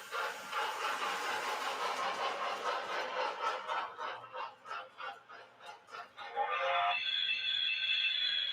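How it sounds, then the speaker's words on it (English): Train brakes squeal in a train simulator, a loud, harsh, shrill screech that pulses and wavers, then settles into a steady high squeal near the end, with no talking. "That's the squealing brakes."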